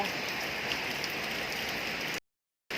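Steady rain falls on surfaces around a home kitchen, a dense, even hiss that runs continuously before cutting to sudden silence near the end.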